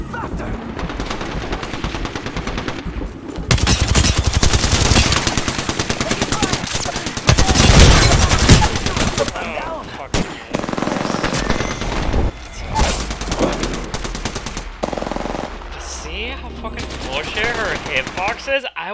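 Loud, sustained automatic gunfire in the video game Apex Legends, with rapid bursts and booms coming and going over nineteen seconds while players talk over the shooting.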